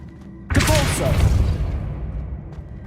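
A Depulso spell cast in Hogwarts Legacy lands as a sudden loud burst with a deep thudding boom that trails off into a rumbling fade, alone with no talk.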